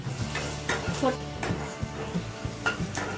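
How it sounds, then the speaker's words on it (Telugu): Cumin, coriander seeds and garlic frying in hot oil for a mirchi tomato chutney, with a steady close sizzle and repeated clinks and scrapes of a spoon stirring in the pan. "జీలకర్ర 2 స్పూన్లు, వెల్లుల్లి వేసి వేపుకుందాము ఆయిల్లో."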